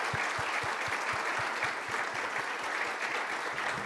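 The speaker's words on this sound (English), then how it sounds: "So please join me in a round of applause for them now." Sustained applause from a conference audience at a measurement and evaluation summit welcome session, a dense steady wash of many hands clapping throughout with a few sharper claps standing out.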